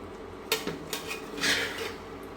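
Small fish layered over onions and potatoes are gently turned in a pan for a fish bhuna, giving a few scattered metal clinks and soft scrapes of the utensil at moderate volume, with no talking.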